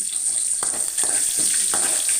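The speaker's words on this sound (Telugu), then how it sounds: "తర్వాత ఇంకా మనం కట్ చేసి పెట్టుకున్న ఆనియన్స్ కొంచెం," Chopped onions hit hot oil with tempering seeds in a pan while cooking upma, giving a steady high sizzle broken by a few soft stirring scrapes.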